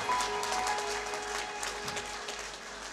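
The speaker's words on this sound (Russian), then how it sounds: "Аплодисменты молодым самые громкие, пожалуйста, подарите." An audience applauds after a Kalmyk singer's performance of a song in the Buryat language: many hands clap in a thick, continuous patter at moderate volume, alone without talk.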